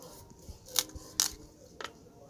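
Scissors snip through an Alocasia bulb in a few sharp, faint cuts spaced apart, close by over a quiet background with no talking.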